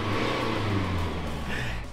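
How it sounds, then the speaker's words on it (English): A Mercedes Sprinter diesel van engine runs close by with a brief revving surge that eases off, a short loud burst of mechanical drone. "it's a diesel. Our first diesel vehicle on the channel, Mercedes Sprinter van."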